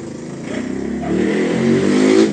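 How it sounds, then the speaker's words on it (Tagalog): A passing vehicle's muffler rumbles from the street outside, a mid-pitched engine drone that swells and revs louder toward the end. "tapos ang ingay, no? Muffler po yan. Muffler sa daan."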